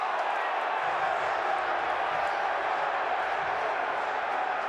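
A stadium crowd at an XFL football game between the Seattle Sea Dragons and St. Louis Battlehawks roars as a steady, loud wash of noise with no distinct breaks.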